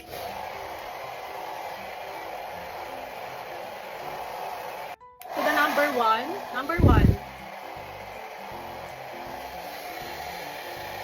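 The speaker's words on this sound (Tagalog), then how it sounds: "gagamitin ko na itong aking blower" A foldable hair dryer blows with a steady, even whoosh, briefly cut off, then resumes while a person speaks over it.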